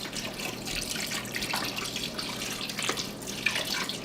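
Chicken stock pouring over French green beans in a pot, a continuous liquid splash and gurgle of moderate loudness lasting several seconds without speech.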